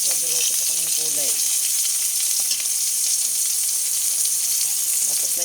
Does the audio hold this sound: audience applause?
no